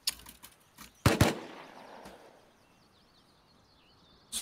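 Gunfire in the video game Rust: a quick scattering of shots, then a louder cluster of bangs that trails off into quiet, with a single shot at the end, no talking over them.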